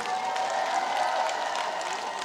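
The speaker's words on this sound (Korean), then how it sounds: "박수와 함성" Dense, steady crowd noise from an outdoor trot concert at the Gampo Port 100th-anniversary celebration, with applause and cheering holding at a moderate, fairly distant level throughout.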